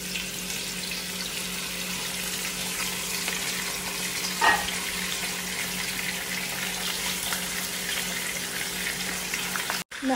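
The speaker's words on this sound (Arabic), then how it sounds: "من يحتر عندي الدهن انزل السمك" Fish frying in hot corn oil for a stuffed zubaidi fish dish, a steady loud sizzle and crackle running throughout with a brief splash of added activity midway, no talk.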